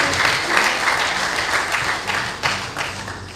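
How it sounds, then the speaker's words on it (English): An audience at a university advisors workshop gives a round of applause for a professor, loud and continuous with a few sharper claps standing out late. "Shall we give a round of applause?"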